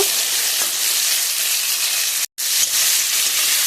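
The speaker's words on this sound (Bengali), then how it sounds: "মশলাটা খুব ভালো করে কষিয়ে নেব।" Masala spice paste frying in a pan, a loud close steady sizzle that cuts out briefly before resuming.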